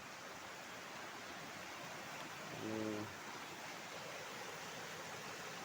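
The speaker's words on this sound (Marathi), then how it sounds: "पाणी कसं वाहतंय ते तुम्ही बघताय" Water pours down over a steep rock face near Koyandewadi village, making a steady, distant, even rush of noise with one brief tonal blip partway through.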